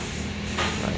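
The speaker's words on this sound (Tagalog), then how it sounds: "Ni-spray niya na ng Pilox." Aerosol spray paint, Pilox brand, hissing steadily as a dented car bumper is coated black after a collision with a jeep, a continuous close broadband spray that swells slightly in the second half.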